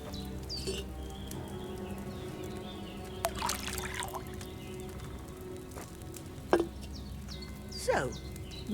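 Wine is poured into a cauldron in Kingdom Come Deliverance 2, making a soft, faint patter and trickle under low ambient game noise, with a few brief clinks and knocks.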